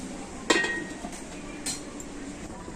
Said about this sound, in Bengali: আর এখন আমি তরকারিটা ঢাকা দিয়ে দিচ্ছি